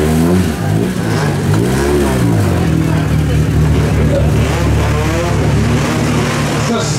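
A Peugeot 106 rally car engine idles and revs at a rally ceremonial start, loud and close, with a public-address announcer talking over it throughout.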